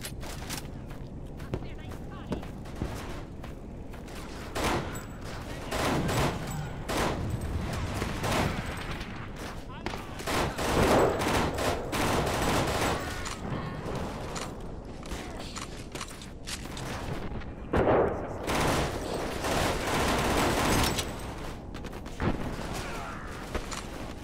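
Rapid bursts of assault rifle fire in the NecroVisioN shooter on an airfield level, loud and repeated throughout amid other battle noise and clanks, with a voice talking over it.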